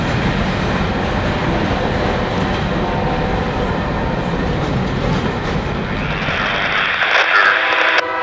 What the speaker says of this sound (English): That's the end of CSX Q452 off to Waycross